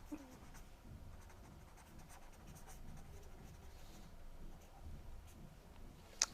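Writing on a board during a chemistry lecture on thermodynamics, faint scattered scratches and ticks over a low room hum, ending in one sharper tap.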